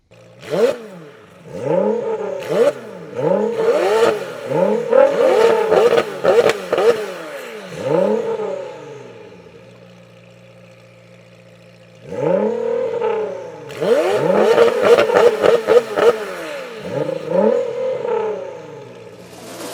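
A McLaren 720S and a 700 AWHP widebody LBWK Nissan GT-R rev hard in turn, bursts of rising and falling engine revs close by, two loud clusters separated by a quieter idle gap.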